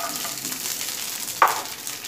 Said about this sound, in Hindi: अब इसको हल्का सा फ्राई करेंगे हम, जैसे इसके ऊपर गोल्डन स्पॉट आ जाए लहसुन में और मिर्ची में